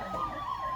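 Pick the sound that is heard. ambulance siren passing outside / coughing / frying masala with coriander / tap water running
ambulance siren passing outside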